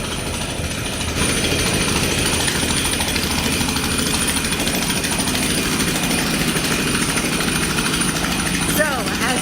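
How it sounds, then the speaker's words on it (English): Jackhammers pound steadily at concrete behind a house under renovation, a loud continuous mechanical rattle with a background engine drone that runs almost unbroken from start to finish. "in here with those jackhammers, just pounding away to get that concrete broken up in the back of the house"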